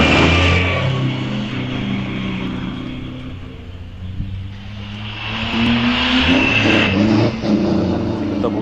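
A vintage double-driven GN car, the 11.9 Annie, accelerates up the Wiscombe Park hillclimb, its loud engine rising and fading before swelling again, with commentary faint underneath.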